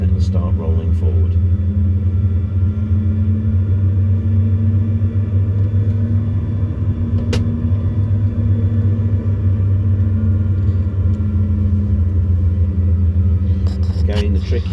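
A flight simulator's aircraft engine drones low and steady while taxiing, a constant rumbling hum with little change in pitch.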